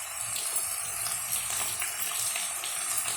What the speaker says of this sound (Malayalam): ഇത് നമുക്കൊന്ന് കഴുകുന്ന വെള്ളം മാത്രം ഇതിനകത്ത് ഇച്ചിരി അരച്ചിരിക്കുന്ന കഴുകുന്ന വെള്ളം മാത്രം.